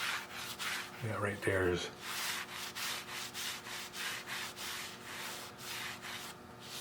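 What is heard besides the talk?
wiping down steam engine part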